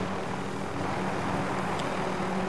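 A helicopter in a battle royale video game drones steadily as it flies off, a continuous mid-distance engine and rotor wash holding at an even level for the whole stretch with no talk over it.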